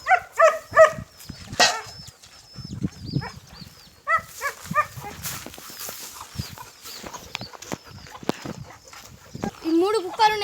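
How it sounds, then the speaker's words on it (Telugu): Dogs on a farm with goats, sheep and chickens bark in short repeated bursts at the start and again near the end, with people talking and farm noise in between. "ఈ 3 కుక్కలు ఉన్నాయి. 3 కుక్కలకైతే ఫుడ్ వేసేద్దాం."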